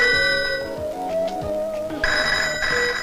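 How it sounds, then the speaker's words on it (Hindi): A telephone rings in a 1994 Hindi romantic film scene, a steady electronic warble that rises to a louder, brighter ring in the second half, heard alone without talk. "ये जरूर किसी मोहब्बत के दुश्मन का फोन है।"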